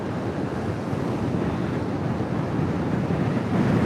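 Sea waves rolling onto the shore at Blackpool, a steady broad wash of surf mixed with gusting wind buffeting the microphone, loud and continuous with no voices.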